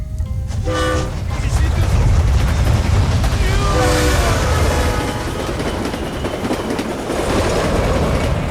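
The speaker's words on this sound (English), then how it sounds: "Ah, we have the first railway." A steam-era railway train in the Shogun Total War: Fall of the Samurai game rumbles loudly and continuously, with brief horn-like tones near the start and around four seconds, and faint voices mixed under the rolling noise.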